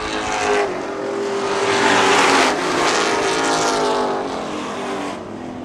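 Race cars roar loudly past on a Superstreet oval track, a continuous dense engine howl that swells and fades slightly as the pack passes, with no voices over it.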